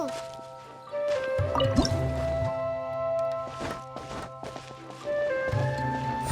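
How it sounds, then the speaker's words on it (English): Water droplets drip from a wall in a video game: several soft, wet plinks and squishy drops come at irregular intervals over gentle background music. "Wow, another water droplet just came out from the wall!"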